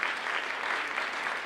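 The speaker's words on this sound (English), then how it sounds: "Please give them a round of applause." Audience applause for a conference panel, a steady dense clatter of many hands clapping throughout, close and even with no voices over it.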